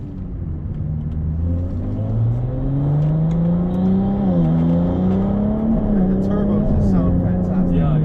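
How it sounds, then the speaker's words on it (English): A 2022 Ferrari 296 GTB hybrid's turbo engine revs and drones loudly nearby, its pitch rising and dipping with a turbo whine layered over the steady roar. "I love the turbo sound."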